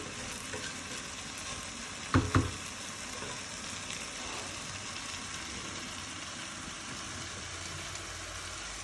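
Prawns for biryani give off a faint, steady frying hiss in a pan, with a brief louder clatter of stirring near the start.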